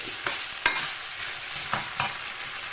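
Glass noodles stir-fried in a dry pan with no added water, a soft continuous sizzle broken by a few sharp scrapes of the spatula, close and fairly quiet.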